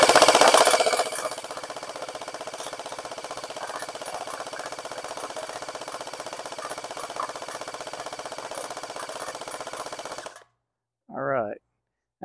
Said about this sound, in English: let's shoot the cans a few more times first